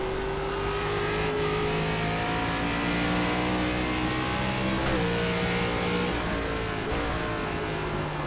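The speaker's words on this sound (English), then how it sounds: "There I go, downshifting for no reason." Loud ARCA stock car engine in the iRacing sim at Sonoma, droning steadily with pitch drops around each downshift and the sound of other cars close by, no talking.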